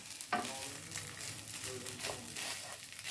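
An egg cooks in a hot pan for bacon fried rice, giving a light sizzle with scraping stir strokes and utensil clinks close by and no one talking.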